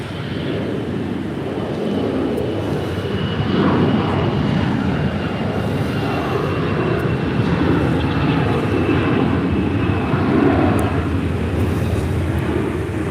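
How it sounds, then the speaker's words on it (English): An American Airlines Airbus A321 departs LAX for Charlotte, its engines a broad, steady roar. The roar holds loud and continuous with a slight swell midway, and no voices cut in. "482 departing to Charlotte on an A321"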